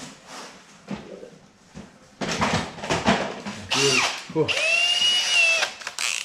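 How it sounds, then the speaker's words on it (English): A large power drill whines and grinds in bursts, drilling holes in an auto parts washer, rising in pitch as it bites, loud and close, with brief pauses between runs. "so we're just going to need to drill those out."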